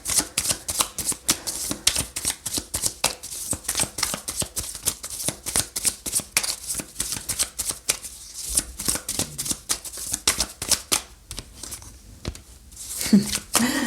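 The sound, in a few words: shuffling tarot cards for a reading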